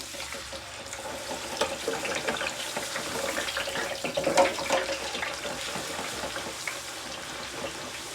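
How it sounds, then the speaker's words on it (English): Potato fries are lowered slowly into hot oil and bubble up, a continuous close crackling sizzle with a fizzing, watery texture that swells in the middle and gradually settles, with no voices. "I just gradually put them in and lift them up and down till the bubbles settle."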